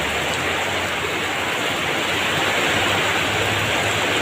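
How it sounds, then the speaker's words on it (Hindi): Heavy rain pours down steadily in a loud, unbroken hiss near a temple at Kamala Sagar, with no distinct thunder cracks standing out and no voices. "इतना ज़ोरदार बारिश हो रहा है और बिजली भी चमक रहा है"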